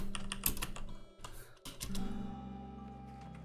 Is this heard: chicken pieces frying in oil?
no